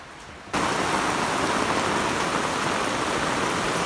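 Heavy typhoon rain pours down steadily and loudly, a dense unbroken roar of drops on surfaces that starts abruptly after a brief quieter moment and continues without letup.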